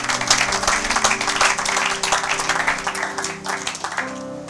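A church congregation applauds during a sermon, a dense crowd of clapping hands rising and falling steadily, close and lively, with a faint sustained tone underneath and a softer tail near the end.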